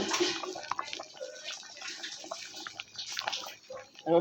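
Fish-head kalai dal boils in a pot, giving soft bubbling, gurgling and popping at close range, fairly quiet and without speech.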